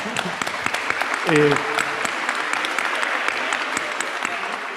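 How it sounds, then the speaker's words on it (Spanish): Steady applause from a crowd fills the whole stretch, with a brief voice rising over the clapping partway through. "Un aplauso para él."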